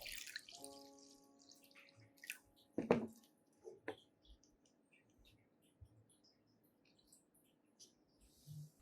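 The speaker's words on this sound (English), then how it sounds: "pour the filtered turmeric solution into a clean cup." Filtered turmeric solution trickles into a clean cup, a sparse dribble with one brief splashy pour midway and a few faint drips around it in a quiet room.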